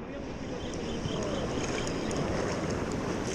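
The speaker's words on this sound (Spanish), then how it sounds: "como hay espumita, hay oleaje y demás" Steady rush of sea waves and wind around a small fishing boat in open water off the Ebro Delta, loud and continuous, with wind buffeting the microphone.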